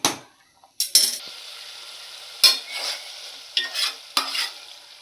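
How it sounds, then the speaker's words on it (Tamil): Par-boiled rice for prawn biryani is drained and tipped out in several sharp wet bursts and clatters, separated by short quiet gaps. "சோறு 3/4 பதத்துக்கு வந்துருச்சு. நான் இதை வடித்து கொட்ட போகிறேன்."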